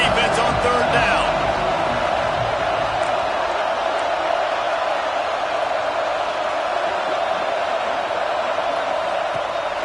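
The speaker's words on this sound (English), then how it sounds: "Decibels rising as the crowd gets behind this defense on 3rd down." A stadium crowd roars in a steady, loud wall of noise at a Mississippi State football game as the defense takes the field on third down, with a voice talking over it.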